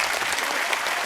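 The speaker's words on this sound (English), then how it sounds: "I actually like everybody to give a huge round of applause for Christian Valor." A crowd claps steadily in dense, even applause.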